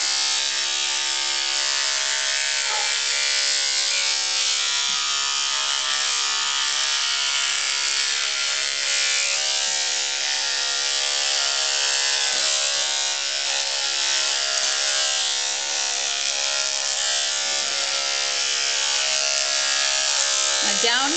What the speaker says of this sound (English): Number 10 blade, and this is just a Conair razor.